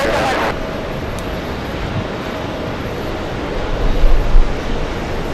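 A steady broadband roar from an Aer Lingus jet at JFK airport fills the scene, swelling louder toward the end, with people talking over it.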